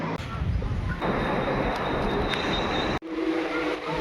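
A crowded morning commuter train running near Thane station gives a loud, steady rumble and rattle, with a sharp momentary break in the noise near the end.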